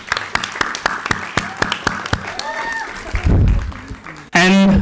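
An audience claps at a sustainability startathon grand finale at Mount Carmel College, a steady run of sharp, evenly spaced claps close by that gives way to a swell of crowd noise and voices near the end.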